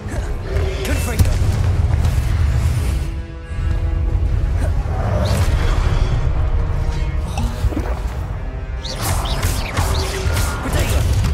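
Heavy booming blasts and crashes from the Confringo fire spell in the Hogwarts Legacy video game, several loud impacts over a continuous low rumble of combat.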